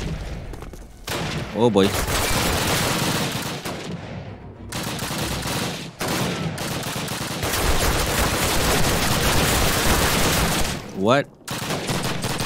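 Tommy Gun fire in a Call of Duty mission comes in long, loud automatic bursts broken by brief pauses, and a man makes short exclamations between the volleys.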